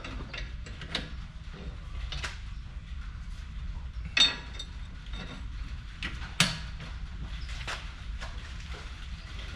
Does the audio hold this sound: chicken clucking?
no